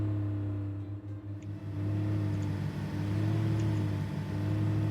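A red Ferrari's engine drones at high speed in a racing game, a steady tonal hum that dips briefly then holds a strong continuous pitch, with no voices over it.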